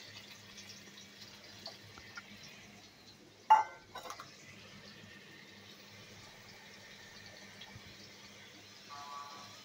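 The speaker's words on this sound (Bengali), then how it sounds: "এবার পেঁপেগুলো ভেজে নেব।" Papaya pieces frying in a pan for a papaya, potato and chana dal dish give a soft, steady sizzle, broken near the middle by a brief clatter, with no talk.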